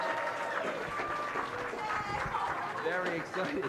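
Clapping and crowd noise for a school student of the month at a board of education meeting, moderate and continuous, with voices and chatter mixed in throughout.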